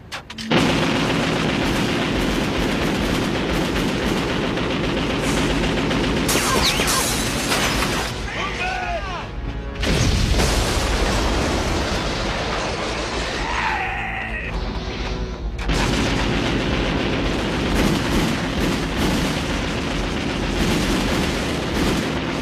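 Heavy gunfire and artillery blasts roar through an anime police standoff with a gunman, a dense, loud barrage broken by brief gaps, with shouted voices mixed into the din.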